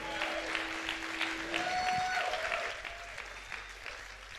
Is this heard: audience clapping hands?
yes